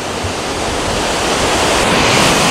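Pacific Ocean surf breaks on a beach in Tijuana, Mexico, a loud, steady roar of waves that swells slightly toward the end, mixed with wind rumble and no voices.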